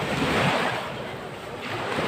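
Sea waves washing onto a seashore, a steady broad roar of surf with wind noise against the microphone, continuous and fairly loud throughout, no voices.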